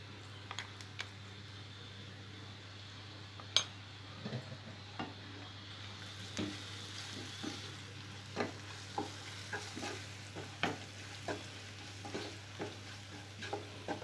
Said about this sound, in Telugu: పచ్చిమిరపకాయలు పచ్చి వాసన పోయే వరకు కొద్దిగా ఫ్రై చేసుకోవాలి